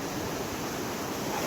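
Sea waves wash steadily onto Murud beach, a dense continuous surf roar filling the short stretch without pause, fairly loud and close, with no voices over it.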